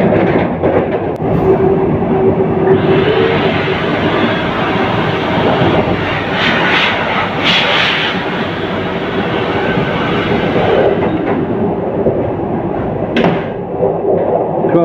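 Vande Bharat express train running at about 100 km/h on the Howrah–Gaya route near Dhanbad, a steady loud roar of rolling wheels and rushing air throughout, with brief rattles and swells, heard from on board.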